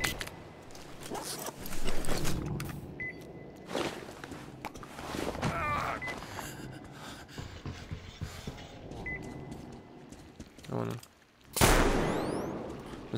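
Gunfire in the shooter game Metro crackles in scattered bursts and single shots, some distant and some close, mixed with footsteps and under ongoing talk from players.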